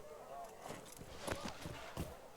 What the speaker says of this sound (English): it's time to take this unruly horse out for a little ride